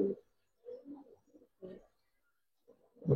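Giribaz pigeons offered for sale give a few short, close coos in separate bursts with quiet gaps between them.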